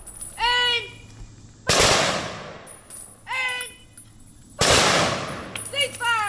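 Two sharp rifle volleys from an honor guard firing line at a funeral, loud and close, each crack followed by a long echoing decay, with a short bugle-like tonal passage heard before each shot.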